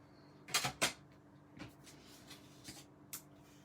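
Card paper creased and folded with a bone folder, a few close dry swishing scrapes and taps, the strongest pair early on, followed by lighter isolated strokes.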